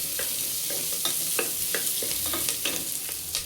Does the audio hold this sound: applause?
no